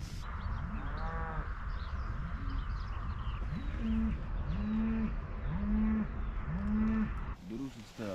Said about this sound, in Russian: Машины, коровы мычат.